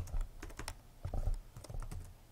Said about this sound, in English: I'm going to type in my